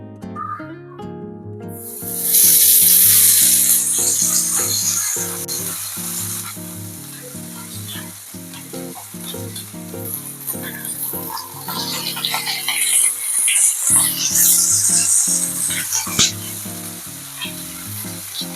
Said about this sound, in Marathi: तेल छान तापलंय, याच्यात आपण आता फिश फ्राय करून घेऊयात.